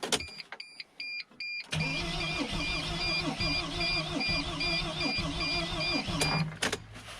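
A 2006 T1N Sprinter engine cranks steadily for several seconds without firing, a close, rhythmic whirring starter pulse with warning chimes beeping over it, then stops.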